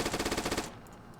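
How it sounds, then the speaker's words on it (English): Rapid bursts of semi-automatic gunfire from a weapon in a Modern Warfare video game mod, about eight quick loud shots in steady rhythm, then a short fading tail with faint clicks. "reload, shoot semi. It sounds so cool"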